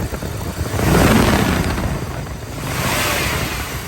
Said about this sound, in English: You hear the fan clutch kick out there, so fan clutch is working just like it's supposed to.